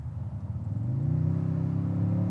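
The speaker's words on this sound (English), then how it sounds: "I still like that engine note, but man, that torque hits" Toyota Tundra TRD Off Road pickup accelerating hard mid-drive, its engine rising from a low rumble into a loud, steady, deep growl heard from inside the cab.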